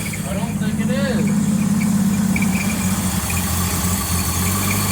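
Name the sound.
car engine idling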